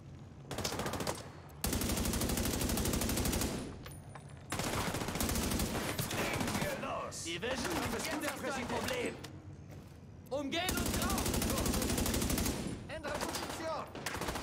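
Rapid bursts of automatic gunfire and single shots from the video game The Division 2, loud and close, with repeated rattling volleys separated by short gaps and busy combat noise between them.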